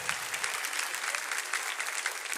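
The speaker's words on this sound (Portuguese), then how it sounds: "Uma salva de palmas para os nossos júris" Lively audience applause for the jury members at a church gathering, a sustained burst of many hands clapping with crisp individual claps audible throughout and no speech over it.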